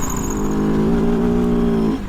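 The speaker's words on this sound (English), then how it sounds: "The engine has a nice raspy sound to it." A 2023 Kove FSE 450R Rally motorcycle engine revs close by, a raspy, buzzing drone rising in pitch and holding before cutting back, loud and continuous.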